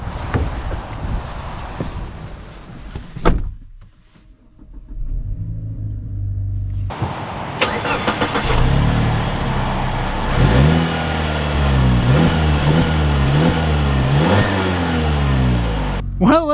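A 2021 Mazda CX-30 Turbo engine cranks and catches, then revs and accelerates through several gear changes, the rising and falling drone staying loud and close.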